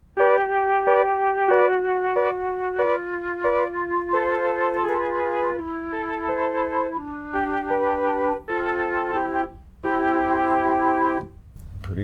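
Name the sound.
sampled Mellotron flute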